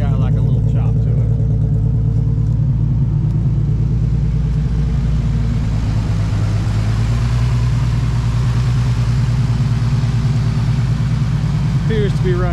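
A tuned Nissan 350Z with the VQ35HR engine idles steadily with a slight chop, a loud close low rumble filling the whole stretch, with faint background noise on top.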